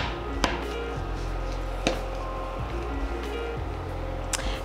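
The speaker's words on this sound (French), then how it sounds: "je vais hacher le tiers que j'ai mis ici au couteau" A knife chops a block of chocolate on a board, a few sharp separate strikes over a steady low background hum.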